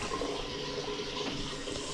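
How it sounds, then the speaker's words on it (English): Water runs steadily from a bathroom vanity faucet, a constant rushing hiss with no break and no voices, close and moderately loud. "since we're running a bunch of water through"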